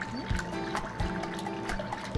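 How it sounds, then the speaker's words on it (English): Peanut butter eggnog mixture is poured into a pot in a thin stream while being whisked, giving a close, steady liquid trickle and dribble with soft clinks of the whisk throughout. "I'm just gonna pour the rest in."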